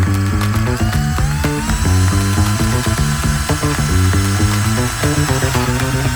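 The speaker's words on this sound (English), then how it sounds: "So we've drilled our hole, and it was the largest 3/4 inch hole on my step bit that I could make." A step bit drilling a 3/4-inch hole at a campground, heard as a loud, close, continuous mechanical whir with rapid ratcheting clicks and pulsing pitch that runs without a break.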